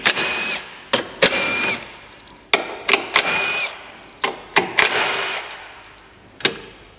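Bolts holding a beam beside a car fuse box are removed with a power tool, in a series of short whirring bursts separated by pauses and faint clicks, close up.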